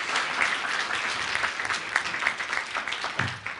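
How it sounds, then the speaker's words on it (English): Audience applause for a presenter at a talk, a lively burst of clapping from a moderate crowd with individual claps audible, continuing steadily for a few seconds and thinning at the close. "Can we give her a big round of applause?"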